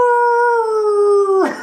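A voice imitates the drawn-out howl of the Howling Man from the episode, one loud sustained wavering tone that slowly falls and then breaks off into a breathy rasp.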